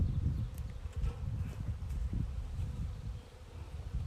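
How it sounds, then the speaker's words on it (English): Angry honey bees swarm around an opened hive, a dense, low droning buzz from many insects close by, continuous and wavering in loudness, with no voices. "There's a lot of pretty angry bees right now"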